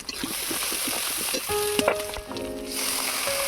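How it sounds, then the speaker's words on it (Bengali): Spice masala with turmeric, chilli, cumin, coriander and pepper powders frying in a pan for a brinjal yogurt dish, with a loud continuous sizzle, stirring scrapes and a brief tonal ring partway through. "অল্প একটু জল দিয়ে মশলাটাকে ভালো করে কষিয়ে নিতে হবে"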